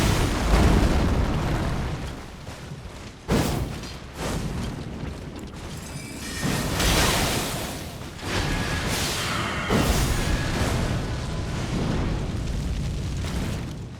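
Mortar blasts in Elden Ring, a series of loud, heavy booms and rumbling bursts, with a sharp hit near three seconds and more rolling explosive noise through the rest.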